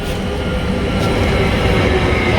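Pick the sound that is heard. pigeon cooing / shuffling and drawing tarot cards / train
train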